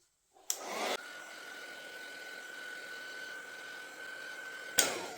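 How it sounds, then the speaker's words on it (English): A handheld heat tool drying ink on cardstock switches on with a click and blows a steady whirring hum with a faint whine for about four seconds. It is close and fairly loud, a click returns at the end, and there is no speech. "I'm coming in with my heat tool"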